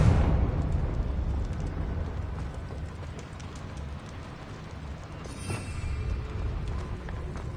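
A Confringo fire spell blast in Hogwarts Legacy on PS5, a dense, loud rumbling burst at the start that rolls on as a sustained low roar, with a sharper crackling flare near the end.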